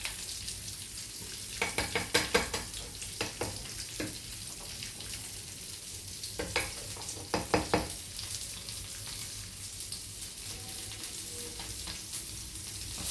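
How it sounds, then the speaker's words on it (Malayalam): Mustard seeds splutter in hot oil in a pan while a Kerala village-style curry is made, giving a steady close sizzle with scattered sharp pops and clicks through the middle, and no voices. "കടുക് പൊട്ടി വരുമ്പോൾ നമുക്ക് മുളക് ഇട്ട് കൊടുക്കാം."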